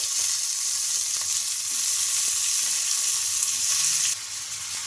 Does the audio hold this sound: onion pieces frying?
yes